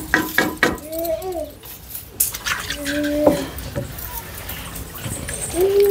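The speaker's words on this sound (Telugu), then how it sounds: "సో ఇది కర్ర పెట్టి కలిపేసుకుందాం." A stick stirs a jaggery and buttermilk mixture in a container, giving wet sloshing and scraping with a few hard knocks, while a person talks over it.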